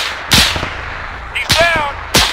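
Sniper rifle shots fired as cover fire for a company, three sharp cracks spaced about a second apart, with a faint radio-like tone and ringing between them.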